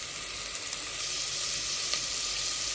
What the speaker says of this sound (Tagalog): Yung ulo pala ng hipon na ginamit ko kanina, na pinagtanggalan ko dun sa hipon, igigisa ko rito.